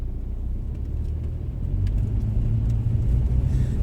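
A car drives through the streets of Anadyr, Chukotka, in January winter. A low, continuous road and engine rumble fills the cabin and swells slightly louder in the second half.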